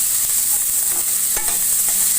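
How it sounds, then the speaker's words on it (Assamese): Onions for paneer curry frying in a pan, a dense, even sizzle with a few soft stirring knocks, close and steady throughout with no voices. "পিঁয়াজখিনি ভাজি লৈছে।"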